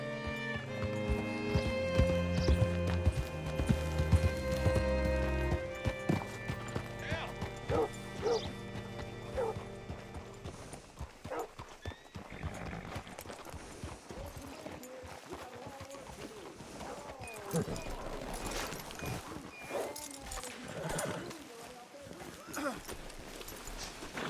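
Horse hooves clip-clopping and a whinny in the Western video game Red Dead Redemption 2, starting under a musical passage and continuing beneath talking characters, moderately near.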